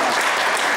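Dense, steady applause from an audience at the II Congress of the Social Justice Movement in Warsaw, loud and continuous clapping filling the hall throughout.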